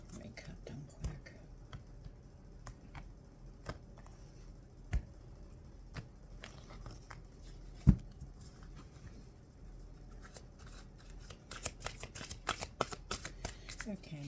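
Oracle cards shuffled and cut by hand, with soft riffling patters and scattered light taps, close but quiet, ending in a busier flurry of card sounds, with no talk.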